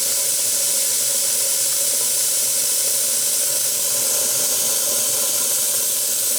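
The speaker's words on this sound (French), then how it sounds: "Je refais tomber la vapeur." Steam releasing from a restored boiler, a loud continuous hiss that holds steady for the whole stretch with no pauses.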